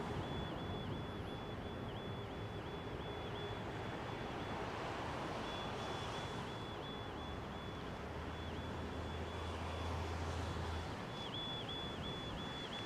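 An Air Canada Boeing 777 in bandit livery at London Heathrow, runway 27R, gives a steady, even broadband roar that holds unbroken throughout with no voices.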